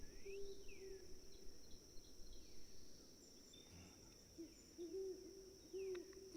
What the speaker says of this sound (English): I'm digging the owls.